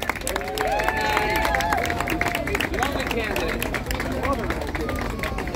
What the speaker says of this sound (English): Let's give another round of applause to Giuliani.